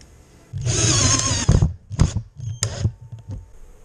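A power drill drives a self-tapping screw into a wooden bar while building a bee swarm trap, a sustained close whir of about a second followed by several shorter bursts as the screw seats, with no talk.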